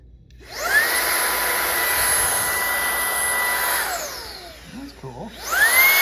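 A RYOBI 18v ONE+ cordless stick vacuum spins up with a rising whine, runs as a steady close hum with a high motor tone, winds down briefly, then revs back up.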